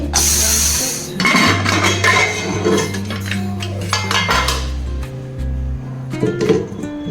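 A metal lid comes off a pot of boiled peas with close clinks and clattering, then scattered lighter metallic taps against a steady low hum.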